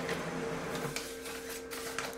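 A printer quietly prints a page sent from an iPad, giving a soft whirring feed with faint repeated mechanical swishes and clicks at low volume.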